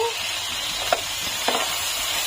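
Leftover rice frying in a pan with onion, green chili and tomato masala, giving a steady broadband sizzle with a couple of brief stirring clinks, close and moderately loud, no talk.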